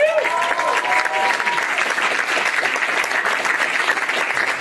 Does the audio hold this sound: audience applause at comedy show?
yes